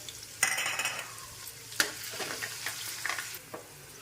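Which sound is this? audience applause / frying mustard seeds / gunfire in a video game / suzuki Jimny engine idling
frying mustard seeds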